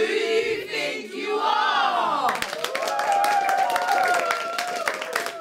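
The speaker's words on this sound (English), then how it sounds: "And the crowd goes wild." Crowd cheering and applause at a knockout contest, a dense roar of voices with clapping that swells after the opening seconds and stays loud throughout, with excited shouts riding on top.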